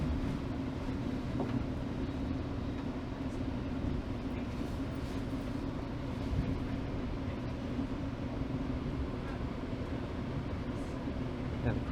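A GO commuter train rolls into Bloor GO station in Toronto, a continuous low rumble and drone of the railcar with faint rattles and squeaks throughout, steady and close.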